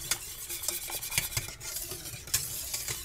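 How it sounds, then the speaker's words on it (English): Gravy being whisked in a pan to work out lumps, with a steady scraping, stirring rhythm of whisk against metal and quick bright clinks, close and fairly quiet. "make sure I whisk out any little lump that might be in there"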